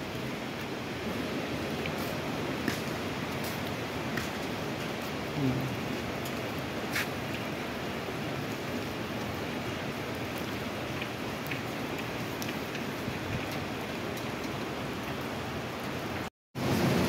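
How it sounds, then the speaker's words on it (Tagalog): Heavy rain pouring in Jeddah, Saudi Arabia, a steady dense hiss of downpour filling the whole stretch with scattered drop ticks, close and continuous, with no talk over it. "Hindi na tumitigil yung ulan dito."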